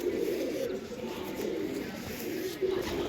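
A pigeon kept for sale in Lahore coos softly and repeatedly, low and steady, close by over faint background noise.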